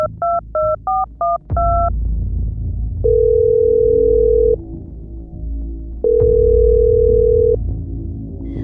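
Telephone call sounds: a quick run of five keypad dialing beeps, then two long, steady ringback tones separated by a pause, clear and loud over a low background rumble.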